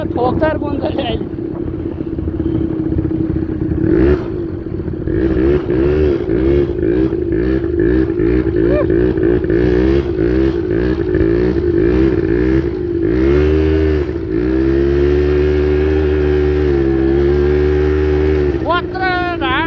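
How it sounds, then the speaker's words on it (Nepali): A motorcycle engine revving repeatedly in rapid bursts, rising and falling in pitch, then settling into a steady drone while the rider talks over it on a desert road with camels nearby. "यो बाइकको आवाजले उँटै तर्छ"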